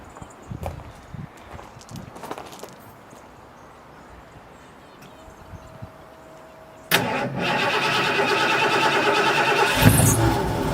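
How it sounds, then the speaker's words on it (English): A cold car engine cranks and fires up abruptly, then settles into a loud, steady idle close by, after a quieter stretch of outdoor ambience with faint knocks. "this is a cold start. Let's see how it fires up"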